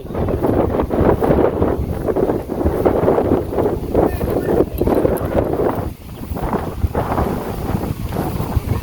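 Strong wind buffets the microphone on open water, a constant loud roar with gusting swells and some thumps and rustle throughout, with no clear voices.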